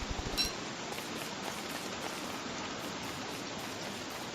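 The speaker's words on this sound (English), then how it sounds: "Raining already, which is unfortunate." Rain falling in the game Don't Starve, a soft, even hiss of patter that stays constant and fairly quiet throughout, with a brief brighter tick near the start and no talking.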